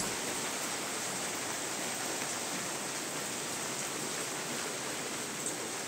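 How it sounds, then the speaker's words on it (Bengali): Light rain falls steadily outdoors near a cooking spot, producing a soft, continuous hiss with no breaks or distinct drops, faint and unchanging throughout, with no voices. "এর মধ্যে ঝিমঝিম করে বৃষ্টি শুরু হইলো।"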